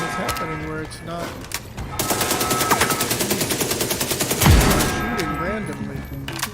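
Rapid automatic gunfire from The Division 2 in New York City, a steady stream of loud, evenly spaced shots lasting several seconds, with a heavy boom near the end and game sounds around it.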